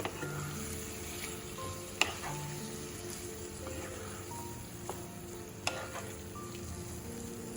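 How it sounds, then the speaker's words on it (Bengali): Marinated mutton stir-frying with spices in a pan for a mutton curry, a steady crackling sizzle broken by a few sharp clinks of a spoon against the pan. "এবার এই মটনটা দিয়ে ভালো করে মশলার সাথে কষিয়ে নিতে হবে।"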